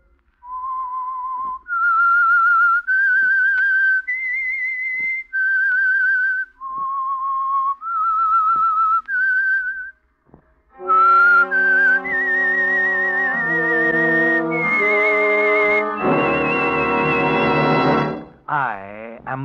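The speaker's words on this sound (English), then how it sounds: "That whistle is your signal for the Signal Oil program" Theme whistling for the old-time radio mystery program The Whistler: a lone whistled melody of sustained, wavering notes, loud and close, followed by an orchestral passage carrying the same tune.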